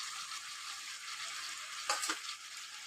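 Oil frying broad beans and potatoes gives a steady, soft, close sizzle, briefly flaring as tomatoes go into the pan, with no talking.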